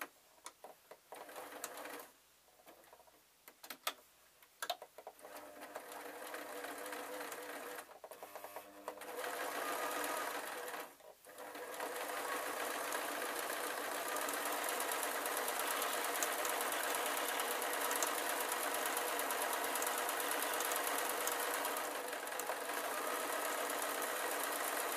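A sewing machine stitches a ragdoll arm, with a few short bursts of stitching and clicks before settling into a long, steady, continuous whir of the motor and needle, close and even.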